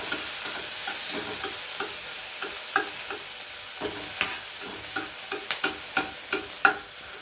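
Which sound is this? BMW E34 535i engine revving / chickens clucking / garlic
garlic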